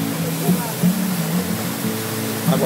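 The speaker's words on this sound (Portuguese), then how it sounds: "E acompanha aí essas belas águas descendo para vocês." Water pours down steadily in Ubajara National Park in Ceará, a continuous broadband rush of flowing water close by, with brief voices murmuring faintly beneath.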